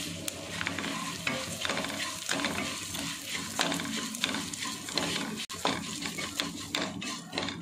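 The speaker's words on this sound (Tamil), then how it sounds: "இந்த நெய்யிலே அவலை போட்டு வறுத்து எடுத்துக்கலாம்." Flattened rice (aval) roasting in ghee for payasam, a close sizzle broken by repeated scraping and stirring strokes and the clatter of a utensil against the pan, with no talking.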